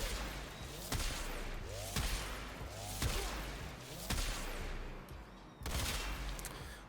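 Sentient Barrage Battacor weapon firing in Warframe, with repeated bursts of gunfire about once a second, each followed by a ringing tail, loud and close amid game effects.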